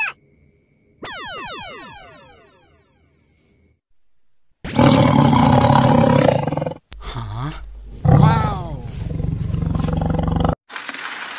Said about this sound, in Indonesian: Hampir gue dimakan macan.